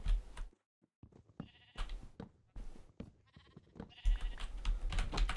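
Sheep in Minecraft bleat in several short, separate bursts, broken by brief pauses and some soft clicking.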